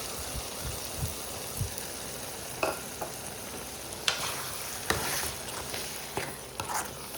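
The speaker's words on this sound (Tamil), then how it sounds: "அடுத்து நம்ம அரைச்சி வச்சுருக்க மசாலாவை இதில் சேர்த்துக்கலாம்" Roasted and ground masala paste frying in a pan for Karnak kizhangu kulambu, with a bubbling sizzle broken by sharp spoon scrapes and taps.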